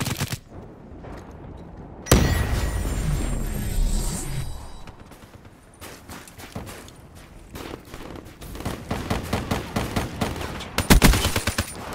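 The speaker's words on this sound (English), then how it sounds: "Hardened sentry firing." Hardened sentry gun in Call of Duty Black Ops III firing in long, loud automatic bursts, mixed with other gunfire, mechanical clatter and booms; rapid rattling volleys near the end.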